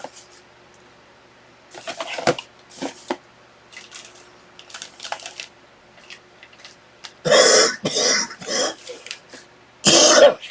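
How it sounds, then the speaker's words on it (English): A person coughs and clears their throat indoors, with several rough, throaty bursts spread out, then a louder cluster of harsh coughs near the end, close to the microphone. "Excuse me, I'm still coughing."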